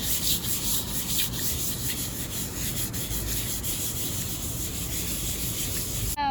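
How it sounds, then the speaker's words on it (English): Steady abrasive sanding of primer on a car part, a continuous rough rubbing scrape held close and loud for the whole stretch with no talk. "But yeah, let's sand this."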